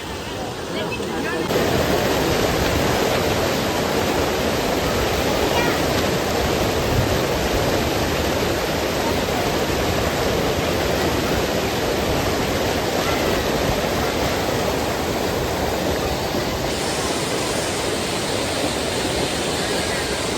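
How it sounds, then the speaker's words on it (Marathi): Heavy monsoon water flow at Dhangar waterfall near Badlapur roars as a loud, steady broadband rush that stays constant throughout, close by and alone. "एवढा मोठा धबधबा आहे ना पाण्याचा फ्लो आला ना"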